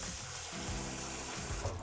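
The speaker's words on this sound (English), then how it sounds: "Put some cold water" Cold water runs from a tap into a cooking pot of strained almonds, a steady close pouring rush lasting under two seconds with no talking.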